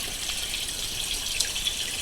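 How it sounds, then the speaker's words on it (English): An aquarium pump runs continuously, a soft steady hiss and trickle of water flowing from an upper tank into a lower one, with a few faint drips and splashes and no voices. "I'm going to turn the pump back on just to get the water from the upper tank circulating into the bottom tank"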